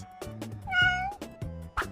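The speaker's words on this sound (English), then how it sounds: "It's a cat." A cat gives a single drawn-out meow in the middle, close and clear, framed by soft short vocal sounds just before and after.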